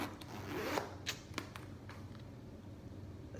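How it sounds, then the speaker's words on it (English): Zipper on a Louis Vuitton Pochette Métis handbag being pulled open and closed, a faint close-up smooth rasp followed by a few soft ticks and rubs in a quiet room. "But the zipper is very smooth."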